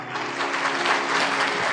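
A congregation at a sermon claps together in a brief, steady burst, loud and close, with a faint hum beneath and no speech over it.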